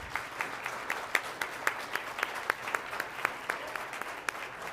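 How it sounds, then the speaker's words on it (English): An audience at a school district board meeting claps steadily, with individual sharp claps standing out against a softer spread of applause from a modest crowd. "One more round of applause"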